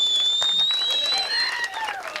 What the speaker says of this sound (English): Give a nice one more big round of applause to Dan Smith.